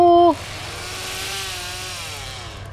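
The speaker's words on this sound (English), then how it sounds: "That's a chainsaw if I've ever heard one." A chainsaw in The Texas Chain Saw Massacre game revs into a steady, sustained buzzing roar that holds fairly loud and even throughout, after a brief tonal chime at the start.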